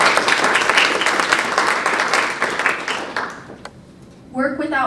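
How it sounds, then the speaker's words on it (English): An audience at a regional poetry recitation final applauds a performer with dense, steady clapping that fades away, after which a voice begins to speak. "Let's give a round of applause for Savannah."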